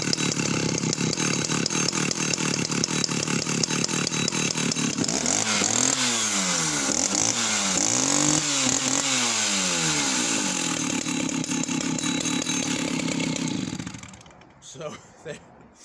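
A 61cc chainsaw engine runs at high revs with a harsh buzzing whine, revved up and down in several loud surges before cutting off near the end, leaving a few faint knocks.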